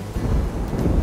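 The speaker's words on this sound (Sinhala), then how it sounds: "මේනවනේ වාහන යනකොට දඩස් දඩස් දඩස් ගන්න. ඇහෙන්නේ නිකන් අකුණු ගහනවා වගේ." Low, heavy rumble of a vehicle crossing a wooden timber bridge that carries heavy trucks in Sri Lanka, a continuous booming roll like distant thunder, loud and close with no talk.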